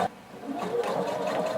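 A sewing machine back stitches at normal stitch length, giving a steady close mechanical whirring after a brief start, with no voice over it.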